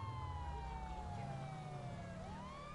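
Police car sirens wailing in a video game roleplay, two wavering tones sweeping steadily over a low vehicle rumble, loud and close throughout.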